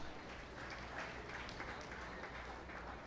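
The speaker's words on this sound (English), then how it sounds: "If we could please give them a big round of applause." Applause from spectators at a 4-H swine show, a faint, distant patter of clapping that holds steady for a few seconds in a large, reverberant show barn.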